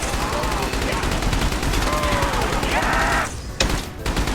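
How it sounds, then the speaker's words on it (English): Rapid gunfire from Michael's Zombies video game as zombies are shot, a dense continuous crackle of bursts filling the whole stretch, loud and close, with brief dips near the end. "The goddamn zombies being one shot by the gun, fucking shooting at them."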